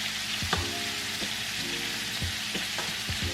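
Japanese-style hamburger patties frying in a pan, a steady close sizzle with a few sharp knocks and scrapes of a spoon against the pan, no voices.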